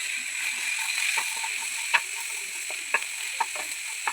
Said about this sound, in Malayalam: ഇതിലേക്ക് നമ്മൾ വഴറ്റി മാറ്റി വെച്ച വെജിറ്റബിൾസ് ചേർത്ത് കൊടുക്കാം